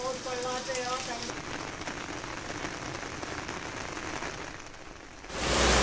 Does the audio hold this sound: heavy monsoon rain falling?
yes